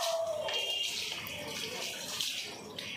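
Cold water from buckets is poured over a pet's head during a bath, a steady rushing splash that runs loud for a few seconds and then eases slightly.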